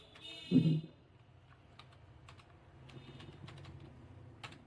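A few keystrokes on a computer keyboard while entering text in a spreadsheet, light scattered clicks after a brief louder thump near the start, quiet and close with no talk.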